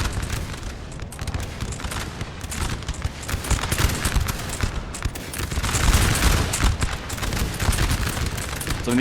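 Musket volleys crackle in Napoleon: Total War, a dense, continuous fusillade of overlapping shots with distant rumbling artillery, loud and unbroken across the whole stretch.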